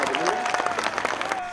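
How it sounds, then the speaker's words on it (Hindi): An audience claps together at a live Hindi comic poetry show, a brief burst of dense applause filling the space. "हम चाहते हैं उनके सम्मान में एक बार ये ताली बजाएं।"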